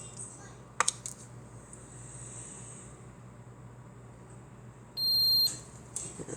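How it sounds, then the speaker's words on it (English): A brand new Ninja coffee maker gives a single sustained high-pitched electronic beep in a quiet room, preceded by a few faint clicks from button presses. "It beeps 5 times on this one."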